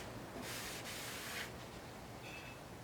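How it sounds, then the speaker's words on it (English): A cloth rubs wood stain onto a cabinet in circular strokes, making a soft, close scrubbing swish in two short passes over a steady low background hiss. "As I'm putting it on in my circles and going up and down, this is not a race, it's a marathon."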